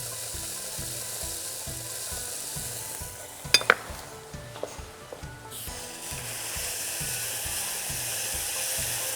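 Chopped pears sizzle in melted butter with cane sugar in a pan, a steady close crackle with a regular rhythm of stirring scrapes and a few sharp utensil clicks partway through.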